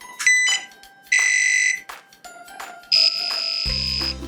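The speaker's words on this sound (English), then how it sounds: "You will hear this buzzer for the longer arc." Electronic buzzer on a small educational line-following robot drawing a longer arc: a series of shrill beeps of varying pitch and length, ending in a longer sustained tone over a low buzz.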